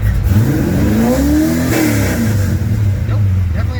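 A 351 Windsor V8 in a Notchback, clutch in, free revs up to about 3000 rpm and back down in one loud, close sweep that rises and then falls away.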